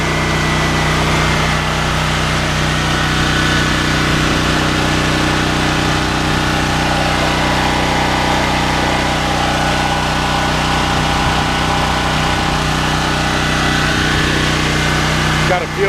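A Smarter Tools STGP-3500EB 3500-watt portable generator runs its engine at a steady, loud drone close by, with an unbroken buzzing hum from start to finish.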